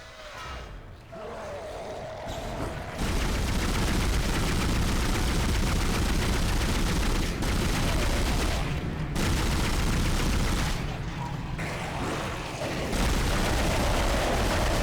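Sustained pulse rifle gunfire from the video game Dead Space, a loud, dense stream of rapid automatic shots that runs almost continuously, with only a few brief pauses between bursts.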